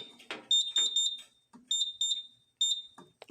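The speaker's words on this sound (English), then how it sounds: "Let's just go ahead and reset the system, and we'll test it in full alarm." A fire alarm system tested in full alarm sounds repeated bursts of a loud, high electronic tone with horn-like pulses, in groups of quick beeps separated by short pauses, close and clear without talk.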